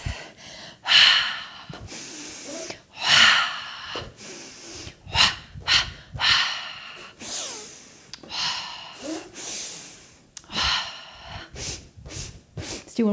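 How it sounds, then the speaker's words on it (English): Heavy breathing during a cardio balance exercise, with rhythmic sharp inhales and forceful exhales repeating close to the microphone. "I'm just going to keep switching the breath."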